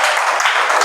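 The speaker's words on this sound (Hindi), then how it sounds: "एक बार ताली बजा दो छोटे के लिए" Students clapping in a classroom, a brief, loud burst of dense applause with no pauses.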